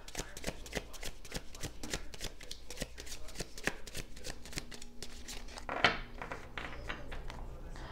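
Oracle cards shuffled by hand in a quiet room, a steady run of crisp riffles and flutters throughout, close and fairly faint, with no talking.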